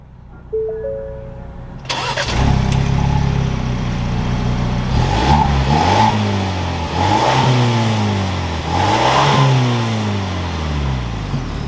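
A 2021 Ford Bronco Badlands SUV engine cranks and catches with a loud roar, then revs up and down several times in strong rising and falling surges.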